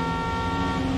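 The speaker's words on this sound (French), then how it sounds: "Si je le klaxonne, il me klaxonne." A car horn in the Need for Speed video game blares as a steady sustained honk lasting the full second, loud and continuous with no talk.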